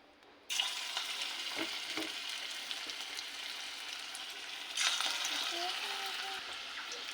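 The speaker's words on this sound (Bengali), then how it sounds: "কড়াইতে তেল দিয়ে দিয়েছি তেল গরম হয়ে গেছে এবার ছোটো ছোটো বল করে তেলের ওপর ছাড়বো" Small cabbage kofta balls dropped into hot oil in a kadai, a sudden loud sizzle that jumps in, then a second surge of frying a few seconds later, crackling steadily.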